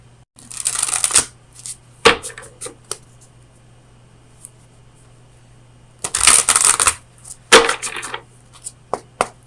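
Oracle cards from the Oracle of Visions deck being shuffled for a tarot reading, two clusters of crisp riffling bursts with a few short taps between them, close and clear, with no talking.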